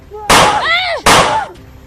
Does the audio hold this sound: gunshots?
yes